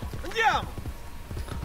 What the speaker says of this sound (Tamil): குதிரை எவ்வளோ ஸ்லோவாக போகுது.